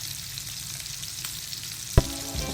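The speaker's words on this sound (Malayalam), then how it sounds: "എണ്ണ ഒന്ന് ചൂടായി കഴിഞ്ഞാൽ ഓരോന്നായി പൊരിച്ചെടുക്കാം" Prawns for a Kerala-style prawn roast frying in hot oil in a pan, giving a steady close hiss with a sharp clack and fresh sizzle burst near the end.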